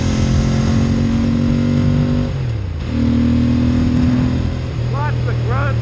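A Bimota Mantra motorcycle engine drones loud and close on a winding road, its pitch climbing as it accelerates, dipping briefly for a gear change and rising again, under wind noise.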